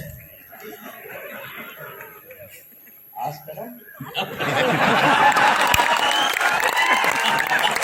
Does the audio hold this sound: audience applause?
yes